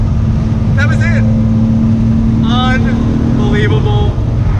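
A 1993 Toyota Supra MK4 with a 2JZ straight-six engine drones steadily from inside the cabin under load, a loud continuous hum with several bursts of people talking over it.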